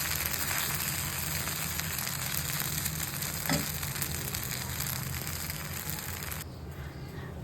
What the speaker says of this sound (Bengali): বাদামটা দেওয়ার পর ভালো করে নেড়ে চেড়ে সব ভালো করে মিক্স করে ভেজে নিতে হবে।